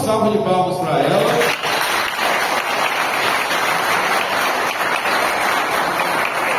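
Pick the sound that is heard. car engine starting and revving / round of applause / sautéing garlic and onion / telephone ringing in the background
round of applause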